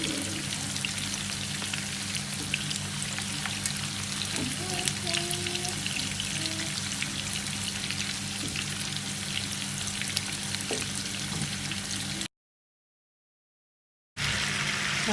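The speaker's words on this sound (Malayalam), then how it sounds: "നമുക്കിതിലേക്ക് ഉരുളക്കിഴങ്ങ് ഇട്ട് കൊടുക്കാം." Potatoes fry in a pan with chicken for a cheese cream chicken dish, giving a constant, close sizzle and crackle that breaks into brief silence near the end before resuming.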